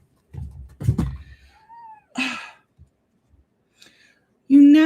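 A cat lets out odd strained yowls and warbling cries, a few short rough calls and then a loud drawn-out wail at the end, close by in a quiet room.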